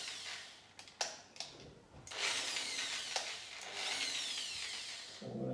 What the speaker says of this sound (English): try to just drill above my error